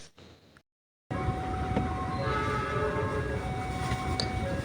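A train heading toward Java passes a railway stop in Ciawi, Tasikmalaya: after a short quiet gap, a loud close rumble of rolling wagons swells and holds steady, with faint horn-like tones riding over it.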